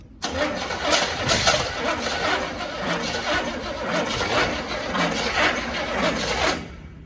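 A Chevy C30 dually with a 400 V8 cranks and fires up, then runs with a rough, loud, steady engine roar for several seconds close by before cutting off. Voices can be heard over it.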